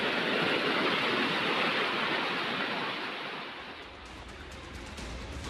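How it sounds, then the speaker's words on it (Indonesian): Swift floodwater of an overflowing river pours over a road west of the river, a loud, dense, continuous rushing roar close by that eases slightly toward the end. "Air mengalir deras hingga meluap ke jalan di barat sungai membuat sejumlah titik terputus."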